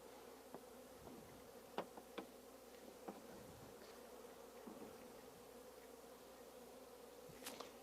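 Honeybees buzzing steadily around an open hive during a beekeeping split, a faint continuous drone with a few soft clicks and taps close by.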